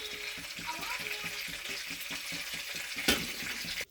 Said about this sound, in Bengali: তেল গরম হয়ে গেছে, এবার কোপ্তার বড়াগুলো ছেড়ে দিই।